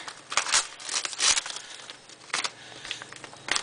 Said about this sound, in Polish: łatwiej by było najpierw tą taśmę rozerwać